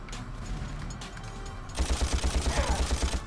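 Rapid gunfire bursts out in the Ratchet & Clank video game, a quick rhythmic string of shots that follows a quieter stretch of game ambience.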